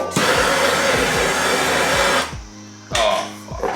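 A heat gun blows hot air onto a glued airbox from an E46 M3, a loud steady whooshing whine with a low motor hum that cuts out, restarts briefly and stops again.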